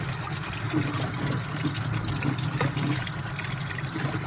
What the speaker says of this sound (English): Ooh, nice purple lid. I like it. Let's rinse it.